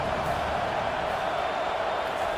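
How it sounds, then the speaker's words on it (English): A stadium crowd roars steadily in a college football video game set at Wisconsin against Western Michigan, a dense, loud wall of cheering without breaks as a third-down defensive stand builds. "Decibels rising as the crowd gets behind this defense on 3rd down"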